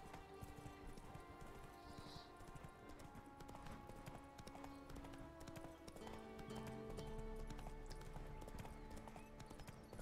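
A horse gallops in The Witcher 3: Wild Hunt, a steady rapid clip-clop of hooves running under game music and ambience, fairly quiet throughout.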